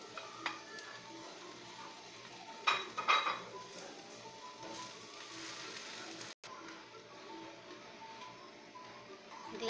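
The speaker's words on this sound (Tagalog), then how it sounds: "Lagyan na po natin yung ating pineapple, yung ating chicken at saka yung ating shrimp." Ingredients including pineapple, chicken and shrimp tumble into a cooking pan, with clattering metal utensil and pan clinks, a brief burst of scraping and stirring, and a faint steady background hiss.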